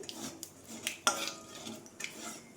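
Black mustard seeds stirred in hot oil in a pan, with a few sharp metallic scrapes and clinks of a spoon against the pan over a faint background hiss.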